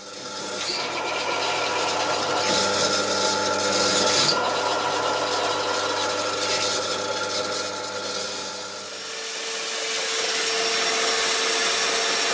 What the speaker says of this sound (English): Warco. Good drill press for the money.